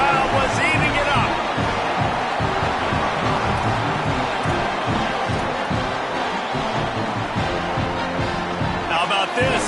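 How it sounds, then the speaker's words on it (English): A football stadium crowd roaring steadily after an Arizona touchdown, a loud, dense wall of cheering under a commentator talking over it. "and this crowd was eating it up"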